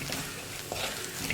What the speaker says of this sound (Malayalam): ഇനി പൊടികളൊന്ന് കുക്കായി വരുന്നത് വരെ ഇളക്കി കൊടുക്കുക.